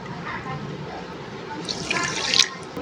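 Water pours and splashes onto sugar in a pan with a soft rushing sound that swells toward the end.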